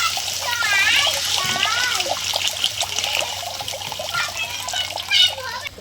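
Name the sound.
water being poured into a pan for fish curry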